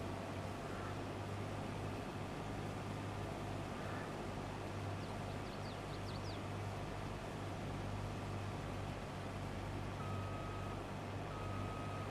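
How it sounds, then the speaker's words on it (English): A truck in the Farming Simulator 22 video game gives faint reversing beeps, a few short repeated tones near the end, over a steady low hum of game ambience. "There's a truck in the field."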